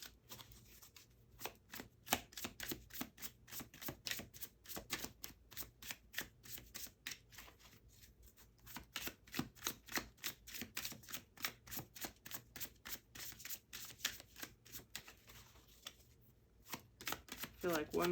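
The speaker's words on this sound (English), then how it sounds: "I feel like one more shuffle and we'll have it." Tarot cards being shuffled over and over, rapid crisp riffles and slaps in a quick rhythm with brief pauses, recorded close and fairly quiet.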